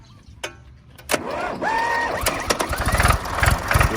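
Used Shire 354 SLX four-wheel-drive farm tractor engine cranking and catching, then a steady, fairly loud running rumble with rising revs and rhythmic chugging pulses nearby.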